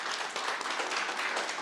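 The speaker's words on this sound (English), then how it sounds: "First, I want to start, though, with Stan and ask everyone to give a round of applause to Stan Stolnecker and the Hub Culture team." Audience at a tech conference giving a round of applause, brief and fairly loud, with dense clapping spread evenly through the moment.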